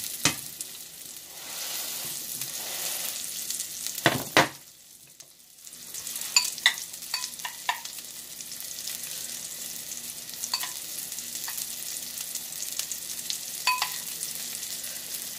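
Beyond Burger plant-based patties fry in a pan over turned-down heat, a soft steady sizzle with scattered pops and spatula clicks, briefly quieting midway before the gentle frying resumes.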